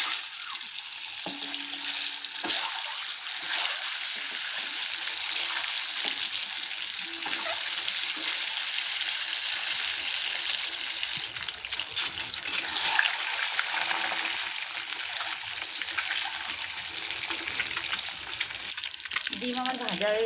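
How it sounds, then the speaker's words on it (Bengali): Eggs rubbed with salt and turmeric frying in oil in a wok, a constant close sizzle with occasional crackles and scraping, with no talk. "ডিমগুলো এখন ভেজে নেব।"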